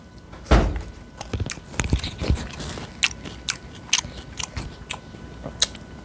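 Chewy fried chicken is bitten and chewed up close, with a firm first bite followed by a steady run of soft, sticky, crunching mouth sounds, no talking.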